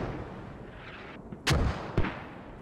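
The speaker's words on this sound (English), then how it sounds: "Here comes mortars" Mortar shells land in the Squad military video game, two loud impacts about half a second apart over a low rumbling background, the first a broad blast with a lingering tail, the second a sharp, shorter crack.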